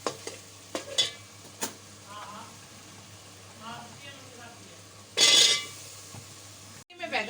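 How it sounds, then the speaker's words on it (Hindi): Potatoes and eggplant stir-fry with a spiced tomato masala in a pan, a low background sizzle with intermittent clanks and scrapes of stirring, one louder burst of frying, and a voice speaking in places. "अब इनको तीनों चीज़ों को भूनूंगी मैं"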